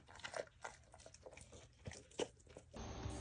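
A dog crunches and bites on a hard roasty treat up close, with irregular crisp chewing crackles through the clip, ending in a brief steadier noisy rustle.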